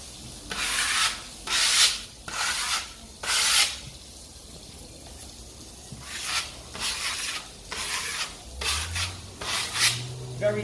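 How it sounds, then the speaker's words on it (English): Drywall compound spread on and scraped right back off with a knife, leaving a very thin layer while prepping a rental for paint; repeated close scraping and rubbing strokes come in bursts with short pauses between them. "I encourage putting it on and taking it right off, leaving a very, very thin layer of compound."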